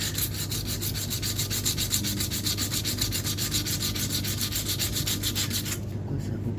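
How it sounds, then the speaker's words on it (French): Steady abrasive rubbing of sanding on a car body, a Renault Twingo, being prepared before a patch repair; continuous close rasping strokes that run alone and stop shortly before the end. "Je vais bien poncer et je vais faire une rustine d'après."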